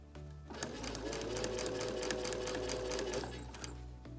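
A sewing machine stitches a pillowcase shirt, running in one steady, loud, close burst of rapid needle chatter for about three seconds, starting and stopping cleanly, with no voices.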